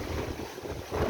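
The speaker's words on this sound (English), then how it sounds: "because it's hella windy" Strong seaside wind buffets the microphone outdoors, a loud, continuous low rumbling roar that surges slightly at the end, with no speech.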